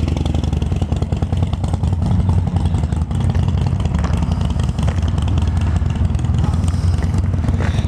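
Large group of about a hundred motorcycles, Harley touring models among them, rumbles past in a steady loud engine drone with clattering mechanical texture and no talk.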